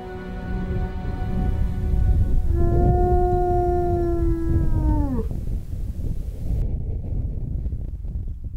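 A lone wolf in the Gobi desert gives one long, sustained howl that holds steady and then bends downward before trailing off, set against a constant roar of wind with no voices.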